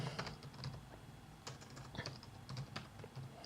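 Close keystrokes on a computer keyboard, a quiet run of uneven taps with short pauses, over a faint room hum.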